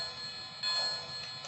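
A Lionel Polar Express toy train set's bell rings faintly with a thin, repeated metallic chime over a low background hum, and no one speaks.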